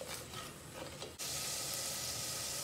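Spices and salt for a smoky chicken biryani fry in a pan, a soft stirring scrape giving way to a loud, steady broadband sizzle partway through, close by with no talk.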